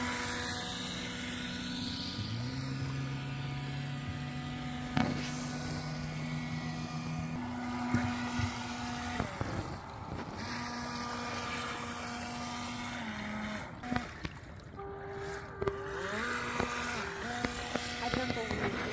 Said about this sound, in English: Here's full throttle takeoff.